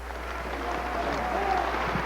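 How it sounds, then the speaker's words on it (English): Large audience applause for Minister Louis Farrakhan in a Springfield, Massachusetts hall, a steady, swelling roar of clapping with crowd voices mixed in. "Let's have a Springfield round of applause for the Honorable Minister Louis Farrakhan."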